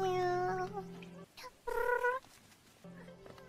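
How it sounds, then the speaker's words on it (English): Cartoon cat in a Minecraft-style 3D animation giving sad, drawn-out meows, two clear tonal calls with a shorter one after, close and alone without talk. "This is a sad cat."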